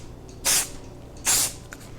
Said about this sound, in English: we're going to spray it kind of like what we do with a can of spray paint